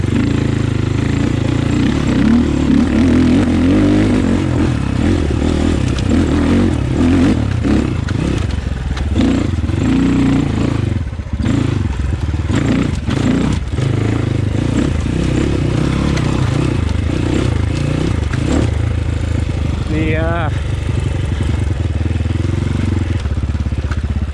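A Beta RR300 dirt bike fitted with a Rekluse Radius X clutch is ridden steadily. The engine runs loud and close without a break, with occasional clatter and scraping from the ride.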